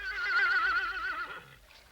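Single long whinny from a horse in a French animated series, loud and close, wavering for over a second before trailing off into quiet.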